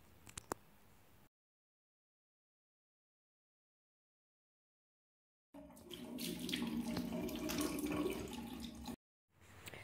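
Cold tap water running into a bathroom sink while rinsing the face, a short splash at the start, then silence, then several seconds of steady running and splashing water before it cuts off.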